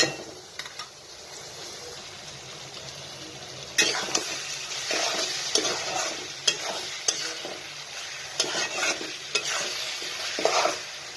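Eggs sizzle in a pan with pasta as a utensil stirs them, with steady frying hiss broken by repeated scraping strokes against the pan that grow busier partway through.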